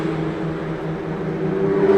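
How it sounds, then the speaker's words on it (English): The Unimore autonomous race car accelerating, a steady engine whir rising in pitch and growing slightly louder over two seconds, heard at moderate distance. "You can hear Unimore accelerating there."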